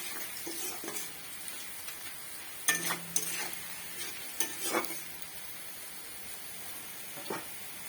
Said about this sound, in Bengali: পেঁয়াজটা ভালোই ভাজা হয়ে গেছে লাল লাল করে